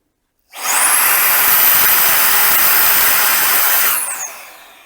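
A Metabo cordless leaf blower runs at full power for about three and a half seconds, blowing air onto a scale. It is a loud, steady whining roar with a high fan tone that rises at start-up and falls away as the motor stops.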